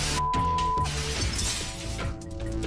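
Glass windows shattering as a meteorite's blast wave strikes buildings in the Urals, a loud sustained crash of breaking panes with scattered smashing debris across a few seconds.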